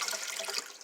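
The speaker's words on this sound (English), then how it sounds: "Washing it off." A charger plug is rinsed under a running tap, with a brief, steady splashing gush of water close by.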